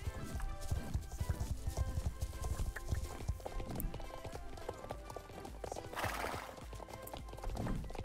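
Horse hooves clip-clop at a riding pace in the video game Star Stable Online, rhythmic steady footfalls with a brief whinny amid soft game music, faint overall.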